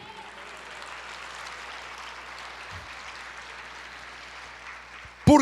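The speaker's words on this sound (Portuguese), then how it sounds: "aplauda ao Senhor" A church congregation claps together in sustained applause, a broad even wash that holds throughout, with a brief louder sound cutting in at the very end.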